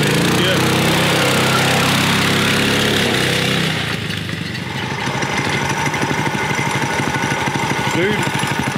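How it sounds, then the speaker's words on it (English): Yerf Dog go-kart fitted with an engine swapped from a Subaru generator, running close by with a loud rough chug that drops from a higher rev into a rapid, steady putter. "we took a generator, snatched the engine off of it, and put it on the Yerf Dog"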